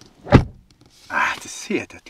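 A single heavy, muffled thud of a 2008 Toyota Century door closing close by, followed by someone speaking.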